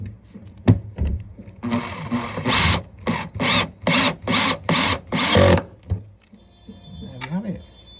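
A power drill drives a screw into a cabinet hinge repair plate in repeated short bursts of high whirring, about six pulses with brief pauses, close, followed by quieter handling knocks and a faint voice.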